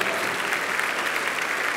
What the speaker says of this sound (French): voilà, là on peut applaudir.